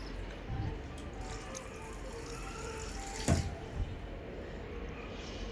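Steady, soft rush of water being poured, continuous throughout, with a brief knock partway through.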